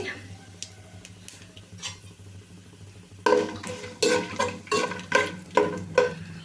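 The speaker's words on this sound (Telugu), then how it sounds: "బిర్యానీ స్పైసెస్ అయితే యాడ్ చేస్తున్నాను మొత్తం ఒకేసారి వేసుకోండి" Biryani spices dropped into hot oil and stirred in a pan, a low frying sizzle at first, then loud rhythmic scraping strokes of a spoon against the pot repeating about once a second, close by.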